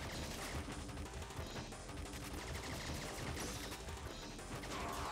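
Spread weapon fire in the run-and-gun game Contra ReBirth, a dense, continuous barrage of rapid shots and crashing impacts lasting throughout, loud and unbroken with no talk.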